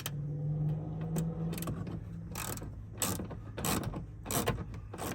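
A socket wrench backing small 5.5 mm bolts out of a Ford truck door, giving quiet, close ratcheting clicks in short irregular bursts with brief pauses between turns.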